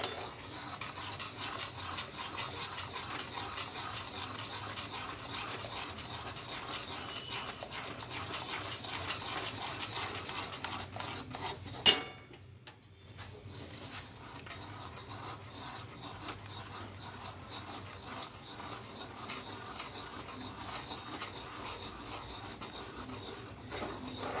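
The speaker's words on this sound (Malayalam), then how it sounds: "കുഴച്ചു വെച്ചിരിക്കുന്ന കടലമാവ് അതിൽ ഇട്ട് നന്നായിട്ട് ഇളക്കുക" Gram flour being stirred into hot sugar syrup for Mysore pak, a steady scraping and rubbing of a spoon against the pan that runs throughout, with a brief sharp clink and a short pause partway through.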